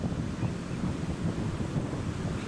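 Pacific Ocean surf rolls in on a beach as a continuous low wash, with some wind buffeting the microphone. No one speaks.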